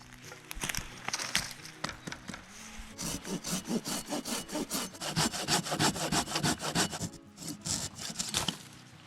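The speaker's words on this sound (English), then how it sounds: "I've been sawing for a while now." A hand saw rasps back and forth through firewood in a steady rhythm of strokes, close and clear, with a few scrapes before the sawing settles in, outdoors at a woodland camp.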